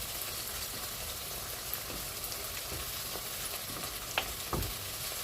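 Onions frying in a pan while being stirred, a continuous crackling sizzle broken by soft scraping strokes and a few light clinks of a spoon.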